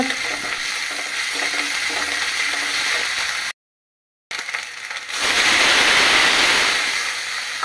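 Onion, ginger-garlic paste and green chili frying in oil for a tilapia and bean-seed curry, a loud steady sizzle with stirring scrapes, a brief gap, then an even louder rushing sizzle near the pan.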